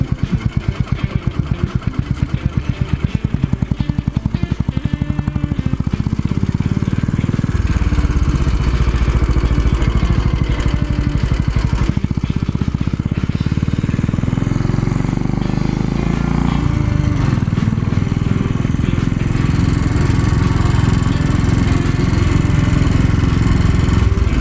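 A Royal Enfield motorcycle engine thrums loudly and steadily while riding, a close, continuous mid-pitched rumble with shifting load and wind noise, no talk over it.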